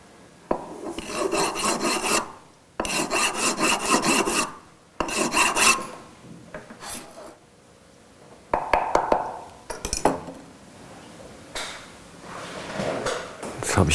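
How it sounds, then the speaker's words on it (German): A hand file rasps along the edges of a gold ring setting in repeated bursts of quick back-and-forth strokes, close and crisp, separated by pauses with light handling clatter. "Beim Abschleifen der Kanten der Goldfassung kommt die Feile wieder zum Einsatz."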